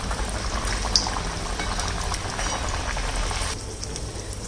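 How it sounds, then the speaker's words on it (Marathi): Jowar flour puris deep-frying in hot oil make a steady, dense sizzle and bubbling hiss that stays fairly loud throughout and eases slightly near the end. "अशाच आता बाकीच्या पण तळून घेऊया."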